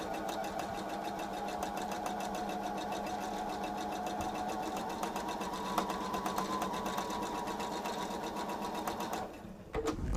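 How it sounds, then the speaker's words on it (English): A sewing machine runs continuously, chain piecing fabric pieces for a table runner, a steady fast mechanical whir and needle rattle heard close up that stops abruptly near the end. "we're going to sew off of this piece a little bit and then put this piece underneath"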